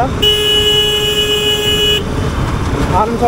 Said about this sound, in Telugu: హారన్ చూడొచ్చు ఒకసారి, హారన్ వినండి.